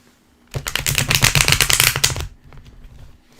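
Tarot cards riffle-shuffled in one dense, rapid burst of crisp flutters lasting under two seconds, up close with no talking and a low hum beneath.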